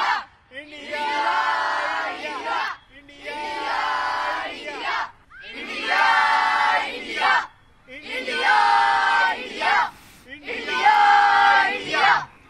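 Five loud bursts of cheering and shouting from a group of children at a Pune gymkhana, excited before an India–Pakistan cricket match, each burst separated by short pauses.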